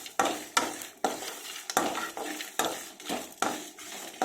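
Potatoes frying for aloo fry, stirred in a pan with a spatula, giving a rhythmic series of scraping strokes about every half second over a soft sizzle, close and fairly loud.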